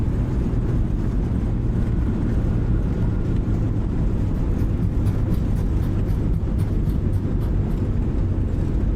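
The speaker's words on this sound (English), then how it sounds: "Reversers are out, decelerating." Thrust reversers on an Airbus A321neo in a flight simulator roar steadily after touchdown, a loud, constant broadband rumble with no pauses for the whole stretch.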